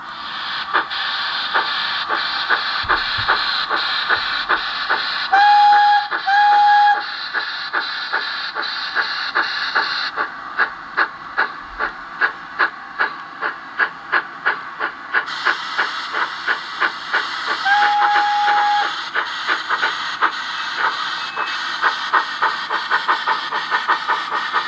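Steam locomotive sounds played through a small speaker on a model train: continuous hiss with rhythmic chuffing, a few short whistle toots, and chuffs turning into distinct regular puffs midway, fairly close and steady.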